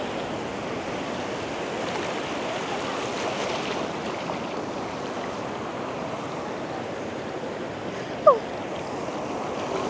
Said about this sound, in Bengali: কারণ এটা অনেক বড় বড় ঢেউ আসতেছে।